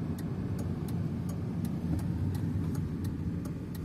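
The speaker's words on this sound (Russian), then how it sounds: "Едем проселочными дорогами." Car driving along country dirt roads, a steady low rumble of engine and tyres with faint regular ticking throughout, no voices.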